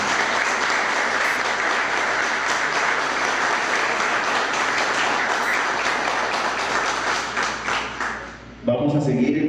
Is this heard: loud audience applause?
yes